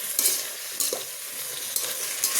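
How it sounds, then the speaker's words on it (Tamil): Green chili, carrot and potato sauté in a hot pan, with brisk stirring scrapes over a continuous close sizzle. "நல்லா லைட் வதக்கிட்டு"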